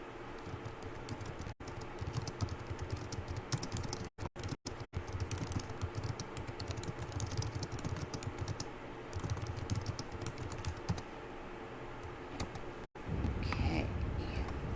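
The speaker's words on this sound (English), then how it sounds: "Sorry about the typing away to somebody else." Rapid typing on a computer keyboard, a dense continuous patter of close key clicks over faint background game audio, with occasional brief gaps.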